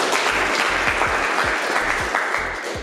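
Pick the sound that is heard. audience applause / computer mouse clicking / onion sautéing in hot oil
audience applause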